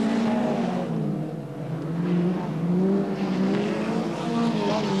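Rallycross cars race at Kirkistown circuit during a 1987 B final, their engines roaring and revving at a moderate distance, with the sound rising and falling as the cars pass.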